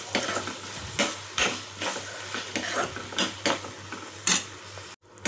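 Chopped tomatoes with ginger garlic paste sizzle in oil while a spoon stirs and scrapes the pan in regular strokes, close and fairly loud.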